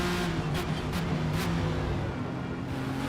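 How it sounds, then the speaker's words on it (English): A car engine in a racing video game drones steadily and loudly throughout, with a few brief higher whooshes early on and no talking. "The car sounds pretty much nothing like the real thing"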